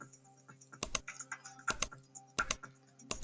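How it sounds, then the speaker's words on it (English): Keys tapped on a computer keyboard while entering a command on a Windows 10 machine, a few quick clustered clicks in separate bursts, close and fairly quiet with no talking. "paste it here and press enter on the keyboard"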